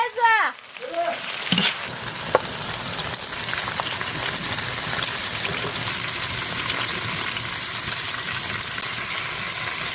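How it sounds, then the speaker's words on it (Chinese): Glass noodles stir-frying with green and red chili peppers in a hot pan give a steady, close sizzle and crackle, with a brief voice near the start. "粉条炒起，倒入青红辣子炒一炒出锅"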